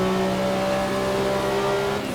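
Sauber Group C prototype race car engine in Assetto Corsa, a steady droning high-rev note with harmonic whine, held close and loud throughout with a faint hint of tire noise.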